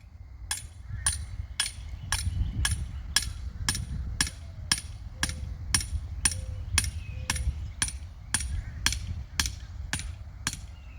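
Regular, sharp blows from a regular hammer ring out one after another at a steady pace, driving a garden stake into the ground outdoors with a low rumble behind.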